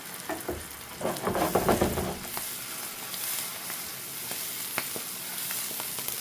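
Tomatoes hit a hot pan for pasta arrabbiata, setting off a loud burst of sizzling that eases into a steady, quieter frying hiss.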